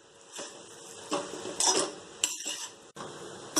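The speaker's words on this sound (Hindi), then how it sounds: "मिक्स करने में एक मिनट तक मैं चलाते रहूँगी" A spoon stirs a vegetable pasta mixture in a pan, giving repeated metallic scrapes and clinks in short uneven bursts. The sound is fairly quiet and close, with no talking.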